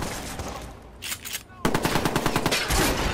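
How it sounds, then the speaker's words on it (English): Automatic gunfire in the video game Watch Dogs: a short burst, a brief lull, then a loud, sustained rapid string of shots, with a voice speaking over it. "Got shots fired at my location!"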